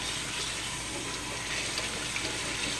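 Running water rinses old oiled wood kitchen woodwork, a steady close hiss and splash of a flowing tap that stays even throughout with no talk.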